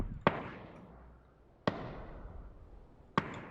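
Mortar fire in the video game PUBG during a league match: three evenly spaced booming thumps about one and a half seconds apart, each with a fading tail, fairly faint.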